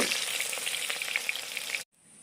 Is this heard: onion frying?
yes